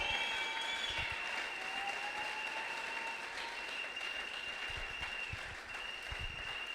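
Sustained applause from a congregation at a prayer meeting, a dense steady wash of clapping filling the whole stretch without pause, loud and close with a few faint sustained tones ringing beneath it.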